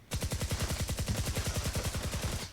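Rapid automatic gunfire from the RATATAT weapon in the video game Fortnite Save the World: a fast, even stream of about two dozen punchy shots in one continuous burst, heard alone with no talking.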